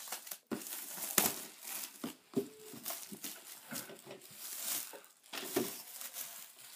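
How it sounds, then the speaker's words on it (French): Plastic shrink wrap is crinkled and torn off a Warhammer 40k model box in a series of close, irregular rustles and crackles, with no talking. "On enlève le papier plastique."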